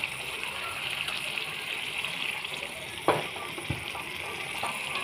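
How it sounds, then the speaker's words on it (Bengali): Chicken sausage stock poured into a hot pan, a soft rushing hiss with a brief splash and knock partway through, fairly quiet and close, with no voices. "স্টকটা আরেকটু দিয়ে দিই।"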